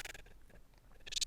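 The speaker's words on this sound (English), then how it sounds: "That allows you to scrub through the audio" Scrubbing a playhead through a recording in Adobe Audition produces choppy, stuttering fragments of sound that jump and smear, louder bursts at the start and end with a quieter garbled stretch between.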